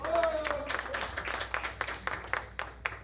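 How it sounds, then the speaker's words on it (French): Scattered audience clapping at a cultural live event, individual claps standing out unevenly with a few sharp hand strikes near the end, while a voice speaks over the start and talk continues across the room. "applaudissez pour vous-même s'il vous plaît"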